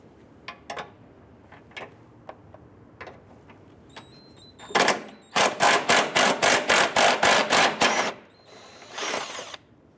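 A 10mm bracket bolt on a 2011-2017 Honda Odyssey front bumper is loosened with a wrench, with clicks and short taps first, then a loud run of rapid ratcheting bursts, close to the microphone.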